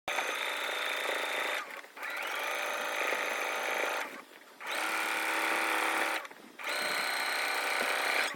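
A sewing machine top-stitches a hem at a long stitch length, whirring steadily in three sustained runs of about two seconds each, separated by short pauses, close and clear.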